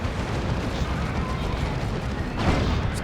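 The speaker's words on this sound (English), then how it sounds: "It's another las cannon." Lascannon fire in the Dawn of War 2 strategy game sounds as heavy booming blasts over dense battle noise, with a stronger burst near the end of the clip.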